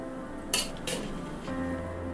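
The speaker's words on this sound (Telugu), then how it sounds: "ఇలా మొత్తం రైస్తో ఈ పులుసు అంతా కలిసేటట్టు కలుపుకోవాలి." A spoon clinks twice against a pot while tamarind paste is worked into cooked rice, then settles into soft scraping and stirring with a faint tone behind it.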